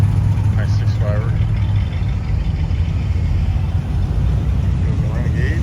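A Jeep Renegade idles and pulls away at a historic main street car show, a steady low engine rumble running throughout beneath loud crowd chatter and nearby voices.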